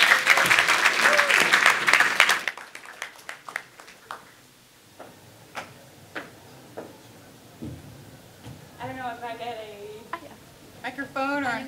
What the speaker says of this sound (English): please have a big applause for Isabel Meijering.